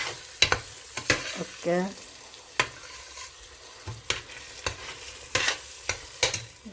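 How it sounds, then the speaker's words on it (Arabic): Onions and minced meat stirred in a pan for pasta, with scraping spoon strokes and clatter over a low sizzle, close and intermittent, a brief word spoken once. "عم نقلب هلا البصل واللحمة."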